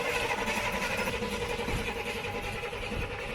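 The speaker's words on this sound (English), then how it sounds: "So right now I'm going to try to start it up." A 1941 Chevy rat rod truck sitting on an S10 frame, its engine churning steadily at close range with a dense, continuous mechanical rumble throughout.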